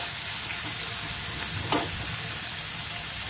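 Spices with Kashmiri chilli powder, regular chilli powder and turmeric frying in a pan for a peas paneer curry, a loud continuous hiss of sizzling oil with one brief stirring scrape, alone without voices.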